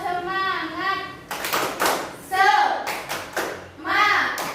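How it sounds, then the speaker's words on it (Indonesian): A class of young schoolchildren performs a rhythmic 'tepuk semangat' spirit clap, sharp bursts of clapping in a set pattern alternating with their chanted voices. "tepuk semangat"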